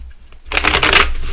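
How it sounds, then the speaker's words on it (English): An oracle card deck is shuffled close up, a quiet rustle followed by a dense burst of riffling card flutter lasting about a second. "we're going to shuffle the energy oracle"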